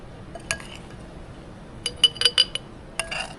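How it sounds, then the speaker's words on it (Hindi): Homemade fig pickle is spooned into a glass bottle, producing several sharp glassy clinks and taps in small clusters, close and crisp over a quiet background. "अब बाकी वाला जी इस बोतल में डालूंगी।"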